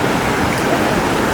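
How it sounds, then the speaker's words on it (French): Ocean waves at a beach in Phuket, Thailand, a loud, steady wash of surf and churning water close by, with no talk. "Les vagues sont pas assez grosses."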